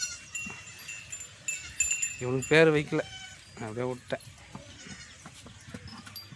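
Young goat kids on a farm give several short, quavering bleats close by, one loud cluster in the middle and more between, while someone talks throughout.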